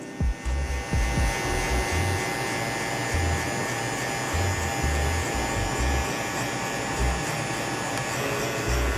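A Babyliss Rose Gold FX One hair clipper with its lever fully open and no guard cuts hair, giving a loud, close, continuous buzz with a pulsing low hum as it passes through the hair.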